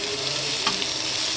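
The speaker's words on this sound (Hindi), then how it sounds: "मिर्चे हैं, ये फ्राई हो गए हैं।" Green chillies frying in a pan, a steady close sizzle of hot oil with a brief crackle in the middle.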